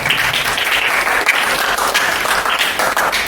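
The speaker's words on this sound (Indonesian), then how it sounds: "ini boleh tepuk tangan" Students in a classroom applaud group 1, a lively, continuous patter of many hands clapping close by for around three seconds.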